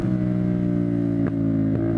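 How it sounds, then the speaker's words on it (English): A CFMOTO 450SS motorcycle with a Yoshimura slip-on exhaust hums steadily on deceleration, broken by two quick pops from the exhaust close together near the end. "There's some of the pops we wanted."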